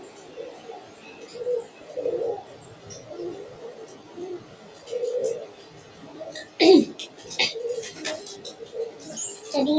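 Soft racing pigeon coos repeat at a moderate distance amid background chatter and rustling, with a brief louder clatter partway through.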